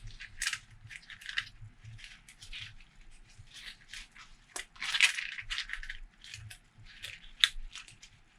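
A deck of game cards being shuffled at a tabletop game session, a run of crisp riffling and snapping bursts repeating close up with brief pauses between them.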